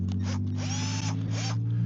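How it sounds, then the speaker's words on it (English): A Milwaukee power drill bores into a log, whining in short bursts with rising and falling pitch over a steady low motor hum, close and loud. "we're gonna hit it with the Milwaukee drill"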